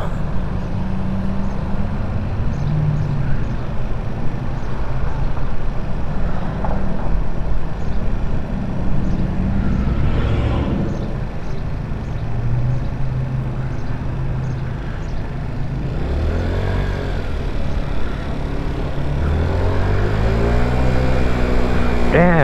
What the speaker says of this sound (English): I'm not even half throttle, just a quarter of a throttle. Now I'm full throttle.